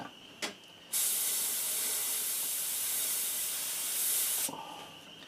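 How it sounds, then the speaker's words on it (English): A spray can hisses in one continuous burst of about three and a half seconds while black paint goes onto the eyes of a realistic crawfish crankbait fishing lure. The spray is loud and close, with a short tap just before it starts. "We're going to spray paint his little eyes black."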